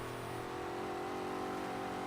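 HDT Ken Brock build race car drifting in Forza Horizon 3 during Australian races, a steady, sustained engine drone that holds at high revs throughout.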